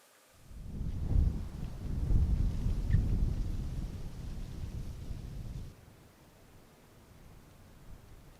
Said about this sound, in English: and it's raining. It's really relaxing.